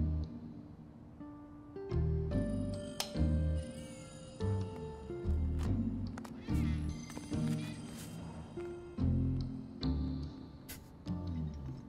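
Repeated cat meows in Final Fantasy VII over a steady musical backdrop with strong low tones, several calls spaced through the clip at moderate loudness.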